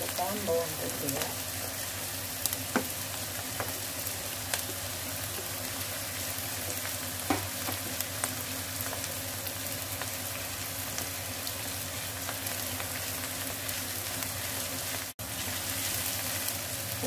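Garlic frying in a pan, a dense, constant close sizzle with occasional light stirring clicks.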